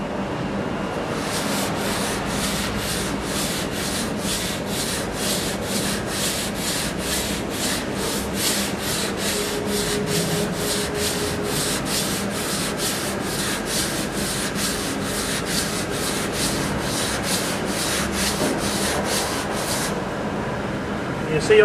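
Steady rhythmic rubbing of sanding coving with a coving tool, back-and-forth strokes repeating evenly for about twenty seconds, close and fairly loud with no voices.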